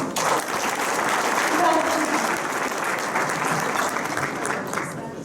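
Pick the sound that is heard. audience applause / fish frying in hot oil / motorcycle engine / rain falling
audience applause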